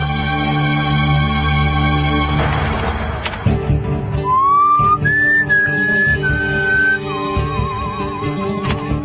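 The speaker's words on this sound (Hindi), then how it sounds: "आप लोग एक एक करके वहां उस केबिन में जाएंगे और माइक के सामने सीटी बजाएंगे" A person whistles a few sustained, wavering notes into a microphone inside a booth, in a whistle-matching test in a CID crime drama scene. The whistling stands out clearly over a music bed.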